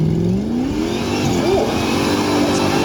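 A Jeep's V8 petrol engine revs hard and steadily, loud and close, its pitch climbing and sweeping through the throttle blips with no talking over it.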